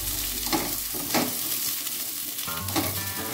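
Sliced ridge gourd frying on high flame with no salt, a steady close sizzle with a few brief stirring scrapes, no voices.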